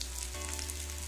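Spices sizzle steadily in hot oil in a pan while arbi leaf pakoras are being prepared, a close, continuous frying hiss with a low hum beneath and no talk.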